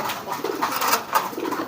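A market pigeon coos close by, soft low throaty calls repeating in a short burst.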